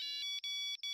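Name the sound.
mobile phone ringtone ringing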